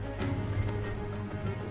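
Horse hooves clip-clopping steadily in Red Dead Redemption 2, a continuous muffled trot close by, with game music and ambience underneath and no talk.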